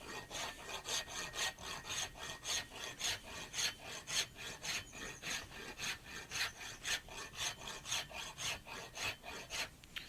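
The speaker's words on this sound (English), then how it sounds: "You can use wood rasps on the alabaster, because the alabaster is a relatively soft stone." A cabinet rasp files soft alabaster stone in steady back-and-forth strokes, a close, rhythmic scraping rasp repeating about twice a second, with no talk.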